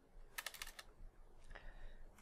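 Fingers tap out a quick burst of keystrokes on a computer keyboard, then a few softer, sparser clicks follow, all quiet and close in a still room.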